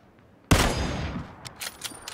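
Gunfire in the video game PUBG: a single sharp, loud shot bursts out after a moment of quiet, followed by a decaying echo and a few fainter pops.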